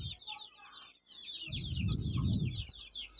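Dense, continuous high-pitched chirping from many young Sonali native chicks in a lit brooder, close by, with a low rustle of movement underneath and a person speaking briefly.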